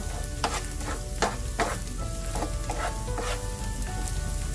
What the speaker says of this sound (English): You can see the garlic cooking, getting translucent and very light brown, which is perfect.